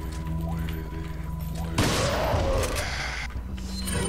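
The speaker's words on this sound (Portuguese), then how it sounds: "Vamos dar um tirinho de shotgun aqui." Shotgun blasts in the Resident Evil 4 video game, a sharp boom rising out of a steady background of game music and ambience, with no talk over it.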